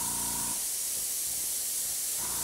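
Short bursts of spray paint hissing through a stencil onto a model, a steady airy hiss with brief gaps, close and fairly quiet.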